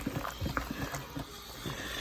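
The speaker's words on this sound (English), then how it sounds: "We're going to mix that up first before we get everything else in" Beans being stirred into thick chili in a crockpot, giving soft, wet squelching and scraping pulses in an irregular rhythm, close and fairly quiet, with no talking.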